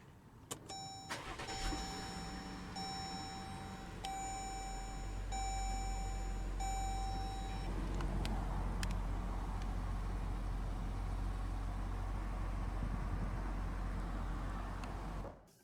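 A 2018 Jeep Grand Cherokee Limited starts by push button: a series of dashboard chimes, then a close crank and the engine catching into a steady, even idle that continues until the end.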